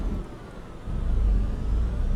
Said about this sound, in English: I may not like the sound of the engine.